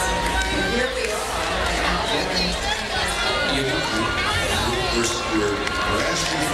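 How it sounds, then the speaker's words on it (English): Election night crowd in 2000, a dense continuous babble of many voices and cheering-like hubbub, steady and loud throughout. "The crowds gathered."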